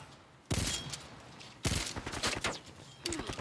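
Gunfire in a first-person shooter game, with two loud bursts of rapid automatic shots followed by further quick shots, close and punchy.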